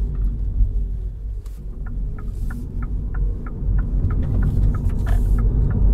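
An all-electric MINI Cooper SE on the road, with a steady low hum and throbbing drive rumble carrying continuously, faint soft ticks scattered over it, and no voices.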